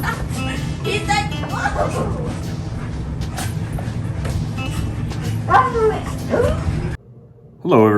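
Excited dogs whine, yip and bark at a family reunion, close and loud, while several people talk and exclaim over the commotion; a brief quiet gap comes near the end.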